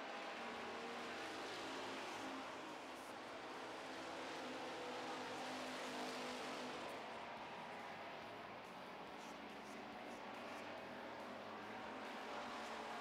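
Street stock race cars run on a track, their engines forming a continuous, distant, fairly faint roar that swells and eases as the cars circulate.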